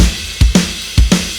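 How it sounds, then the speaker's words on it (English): A punchy replacement snare drum sample from a sample pack plays alone, with about five loud, close hits arriving in quick pairs and each snapping off with a short decay. "that replacement snare sound you just heard is actually from one of my own sample packs"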